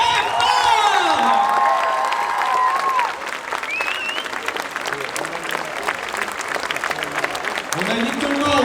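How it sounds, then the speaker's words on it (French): A crowd at a cosplay convention gives a standing ovation after a Moulin Rouge cosplay show, with sustained loud applause, cheers and whoops, and voices rising over the clapping. "Je vous demande une ovation, je veux tout le monde debout pour les applaudir très très fort"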